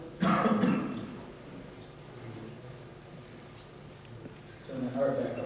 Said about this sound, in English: I'm coughing because something's coming out of her up here